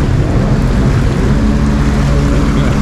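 Heavy rain pours down during a jetski ride in Amsterdam, a loud, steady hiss of downpour that fills the whole stretch, with a low engine rumble underneath.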